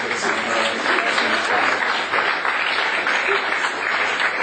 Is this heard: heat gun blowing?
no